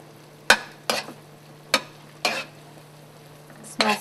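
Orange liqueur cooking down in a hot pan for strawberry crepes, a quiet steady sizzle under a low hum, broken by five sharp scraping or tapping bursts of stirring, with no speech.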